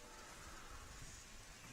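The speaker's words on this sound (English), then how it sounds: "There's a few drops of rain again, but we're hopeful that this doesn't interrupt play." Light rain drops begin falling on an outdoor lawn bowls green during a championship match, a faint, steady patter with no voices.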